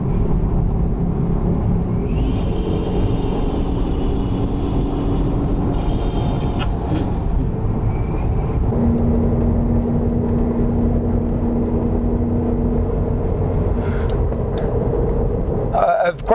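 Steady road and engine drone from a car towing a Conqueror UEV 14 travel trailer at 65 mph, continuous and loud throughout with a brief hum and some clicks near the end.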